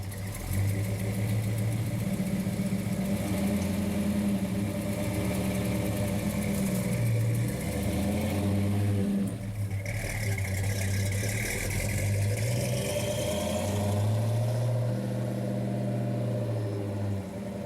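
A 1970 Ford Torino Cobra with a 429 V8 idles steadily nearby, a deep, even rumble holding for the whole stretch with a brief dip partway through, no talking over it.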